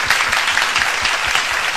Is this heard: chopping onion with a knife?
no